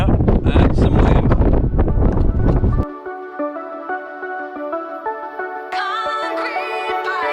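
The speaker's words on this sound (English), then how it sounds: "Yep, that's some wind." Strong wind buffets the microphone at an airfield after landing, a loud rumbling roar for about three seconds that gives way to a steady tonal music-like sound.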